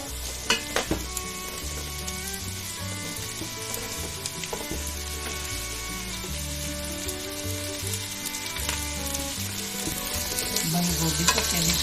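Vegetables for a beans vegetable soup fry in a pot over a moderate flame with a continuous soft sizzle, broken by occasional sharp clinks of a utensil on metal as the mix is stirred.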